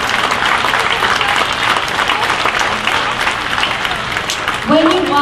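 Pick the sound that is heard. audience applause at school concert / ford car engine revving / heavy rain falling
audience applause at school concert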